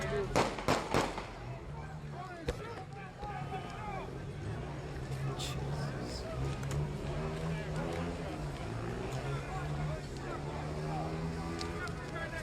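Gunshots crack sharply during a protest in Atlanta, a quick cluster of bangs at first and then scattered single shots, over a low engine drone and voices.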